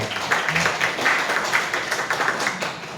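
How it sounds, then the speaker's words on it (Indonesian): A school audience at a principal's handover ceremony applauds the teachers, with dense, rhythmic clapping throughout at moderate loudness. "Tepuk tangan dong untuk seluruh guru-guru."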